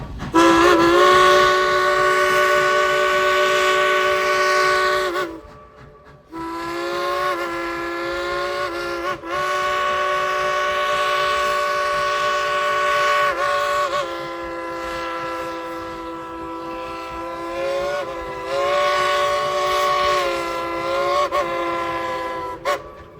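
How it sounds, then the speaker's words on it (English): A steam locomotive whistle at Dollywood blows in long sustained blasts with a few brief breaks, its rich chord steady and close for over twenty seconds. "let's all tell the engineer to blow the whistle"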